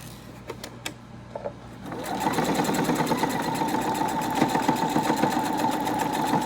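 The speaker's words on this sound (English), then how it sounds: "Notice I'm sewing over my pins." A sewing machine stitching fabric over pins while making a cinch sack runs as a steady, fast mechanical whir with rapid rhythmic ticking, starting after a few quiet handling clicks and continuing loud and close without a break.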